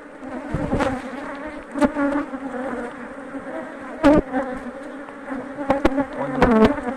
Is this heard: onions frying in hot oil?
no